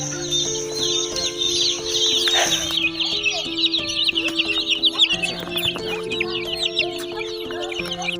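Chickens cluck steadily on a chicken farm in Uganda, with chicks chirping busily at high pitch and a low electrical hum running underneath, the bird sounds close and continuous throughout.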